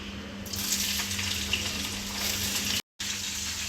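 French beans sautéing in hot oil in a pan for veg biryani, a steady hissing sizzle close up with a brief dropout near the end and no talk.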